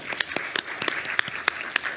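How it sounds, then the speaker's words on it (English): Applause from a summit audience for a panel, a dense wash of many hands clapping with sharper individual claps standing out, steady and moderately loud throughout. "A round of applause for our wonderful panel."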